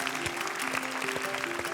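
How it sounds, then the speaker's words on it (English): Short stretch of steady audience applause during a televised virtuoso music competition final, dense clapping with a faint sustained tone beneath it. "Applause, applause, applause, of course."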